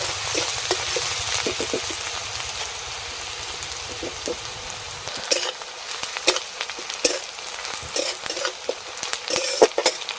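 Chopped onions fry in hot oil in a pan for a Bengali pointed gourd curry, a continuous close sizzle broken by repeated scraping and clinking of a spatula as they are stirred.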